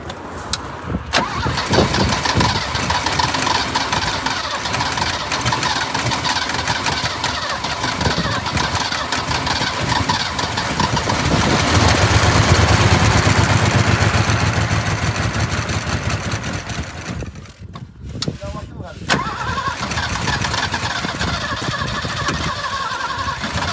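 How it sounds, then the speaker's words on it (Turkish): A restored Mercedes W123 engine cranks and catches, then runs loudly and steadily close by, its revving swelling in the middle before briefly dropping and picking up again. "Güzel motor sesi güzel."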